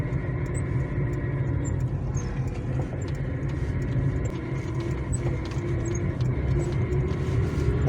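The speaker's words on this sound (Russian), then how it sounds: "Очень-очень много машин." Dense road traffic rumbles past on a busy approach to a Sabantuy festival, a steady mid-distance wash of car engines and tyres, with faint clicks and knocks on top and nobody speaking.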